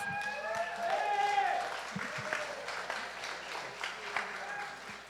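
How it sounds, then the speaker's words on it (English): A youth service congregation applauds in a church, giving a dense, steady patter of clapping that holds for several seconds at moderate volume before slowly thinning out. "Please give yourselves a round of applause."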